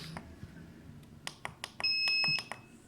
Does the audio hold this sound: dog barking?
no